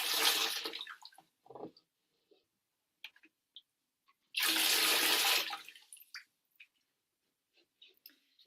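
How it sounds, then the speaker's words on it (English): Water poured from a bucket to rinse the feet splashes in two separate bursts, each about a second long, close and fairly loud, with quiet pauses and small drips between them. "Rinse your feet."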